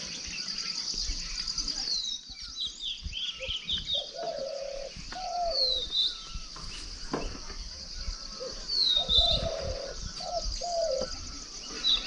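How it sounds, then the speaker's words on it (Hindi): Birds chirp outdoors in hilly farmland near maize fields, with bright repeated high chirps and a few lower cooing calls, moderately near over a soft steady background. "साथ ही चिड़ियों की चहकने की आवाज़।"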